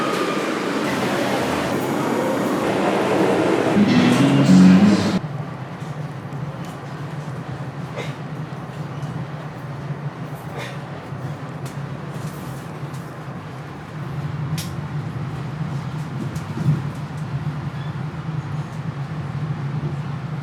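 A train rumbles past with a steady low drone, louder briefly at the start before settling into a continuous distant rolling hum.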